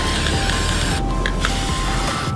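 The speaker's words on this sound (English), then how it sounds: "now we're just gonna use the gold spray paint and finish the pumpkins" A steady hiss of gold aerosol spray paint on pumpkins runs continuously for a couple of seconds, close and fairly loud.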